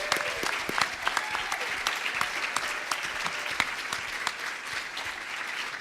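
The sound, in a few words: audience applause at a candidate forum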